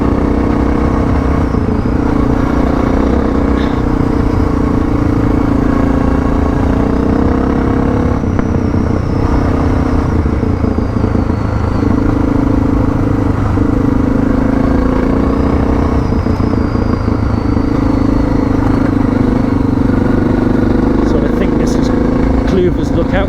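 A Suzuki DR650 motorcycle rides a mountain forest dirt road, its engine a steady close mid-pitched drone with rumble and clatter throughout, never easing off.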